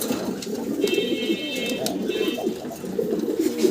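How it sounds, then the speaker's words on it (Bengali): Pigeons kept for sale in a loft coo nearby in soft, repeated low, throaty calls that overlap steadily. "ওই যে ডাক শুরু হয়ে গেছে।"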